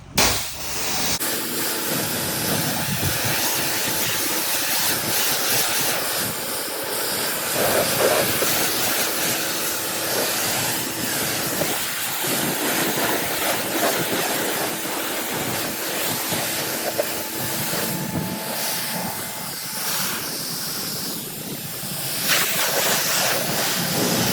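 A pressure washer sprays a final rinse of water over a surface after chemical washing, giving a steady, loud broadband hiss that runs continuously and close by with no speech.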